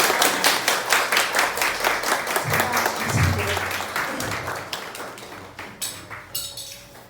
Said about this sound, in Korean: 큰 박수로 모셔보겠습니다